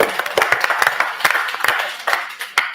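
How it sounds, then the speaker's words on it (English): An audience at the Big Tent Ideas Festival gives a round of applause for a choir heading to Eurovision, loud close claps forming a thick, uneven burst that holds steady. "So let's get a big round of applause for that."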